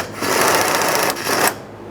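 A ratchet with a 10mm socket turns a mounting bolt on a 2013-2020 Ford Fusion 2.0L during fuel tank transfer unit work. It makes two close, raspy clicking bursts in quick succession, with no voices.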